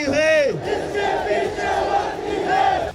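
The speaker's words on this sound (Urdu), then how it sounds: "پی ٹی ایم نے فوج مخالف نعرے بازی کا آغاز کیا۔" A large protest crowd at a PTM rally chants anti-army slogans in unison, a loud, continuous roar of many voices rising and falling together, heard up close for the whole stretch.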